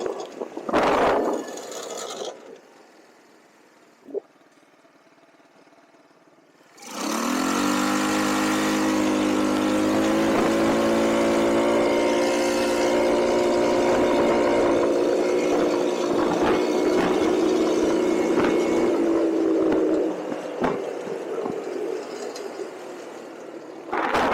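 A cheap $300 off-road buggy's small engine starts up with a burst, then drones loudly and steadily with rising and falling revs for several seconds during a ride, cutting out briefly near the end.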